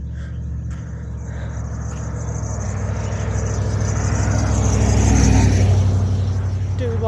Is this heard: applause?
no